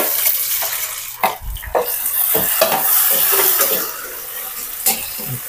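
Cashews and beans lightly frying in a pan: a soft, steady sizzle runs throughout, broken by several sharp clinks and scrapes of stirring, fairly close and moderately loud, with no voices.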